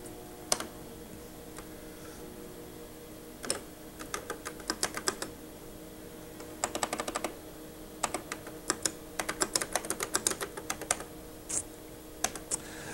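Typing on a Xerox Star computer keyboard: scattered single key clicks and quick bursts of keystrokes over a steady low hum, fairly close and moderately loud, with no talking.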